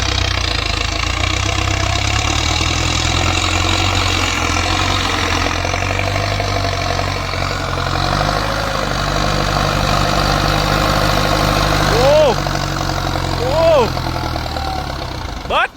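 Massey Ferguson 5000 / 7600 farm tractor engine idling steadily with a deep, continuous low rumble close by. A few faint short chirps rise over it near the end.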